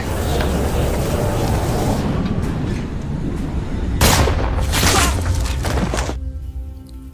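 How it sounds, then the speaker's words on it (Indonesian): Several loud, sharp gunshots ring out in a cluster over a rumbling, tense background, followed by a dull boom that fades. "Sebelum akhirnya Juba melayangkan beberapa tembakan ke arahnya."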